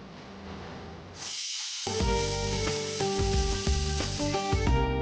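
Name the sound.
pressure cooker whistle hissing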